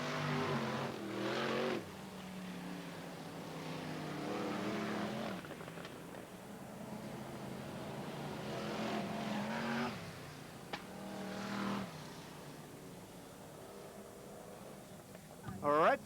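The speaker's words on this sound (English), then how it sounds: "The rest of the cars still coming round, and a number of them some way down." BriSCA Formula 1 stock cars lapping an oval track at Kings Lynn in 1996, engines droning and rising as they come round, with a commentator talking over the steady racing noise throughout.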